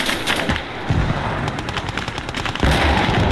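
Maxim machine gun firing in the WWII game Gates of Hell, rapid rattling bursts of gunfire mixed with other shots and battle noise, loud and continuous.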